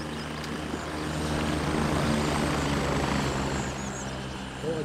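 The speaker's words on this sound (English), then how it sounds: "Another chopper coming in." A video game helicopter flies in with a steady, heavy rotor thrum and engine roar that swells slightly and holds, loud and continuous, with no speech over it.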